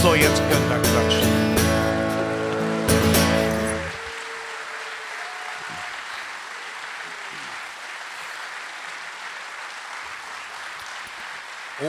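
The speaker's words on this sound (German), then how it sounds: "So, jetzt könnt ihr klatschen." An audience claps at a live talk show with music in Frankfurt (Oder). The applause is loud and dense over lingering music for about four seconds, then thins into a softer, steady patter of clapping.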